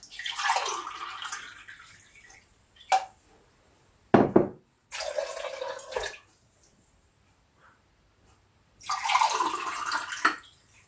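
Water poured into a glass jug for making almond milk, in several separate bursts of splashing flow with short knocks between pours, fairly close and clear, with no voices.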